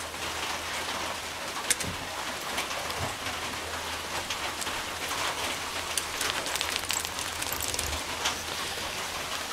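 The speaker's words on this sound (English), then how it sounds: "Another rainy day in the monsoons." Heavy monsoon rain pours steadily, a thick constant roar of drops striking surfaces nearby, with scattered louder splats and occasional low thumps, no talking.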